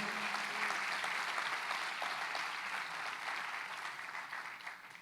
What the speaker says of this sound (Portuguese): Você pode celebrar o Senhor e aplaudir Ele por isso.